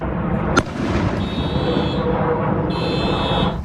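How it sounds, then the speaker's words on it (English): Fireworks going off in a neighborhood near Blossom Hill and Almaden Expressway in San Jose: a single sharp, fairly distant bang over steady outdoor rumble, with faint high-pitched tonal beeping drifting in and out. "fireworks have been going off in a neighborhood near Blossom Hill and Almaden Expressway in San Jose for days"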